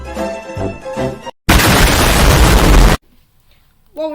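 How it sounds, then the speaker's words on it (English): A sudden loud explosion blast standing in for the Lusitania ship being blown up, a dense roaring burst lasting about a second and a half, cut off sharply, with voices before and a faint voice after. "That was the sound of the Lusitania being blown off the coast of this earth."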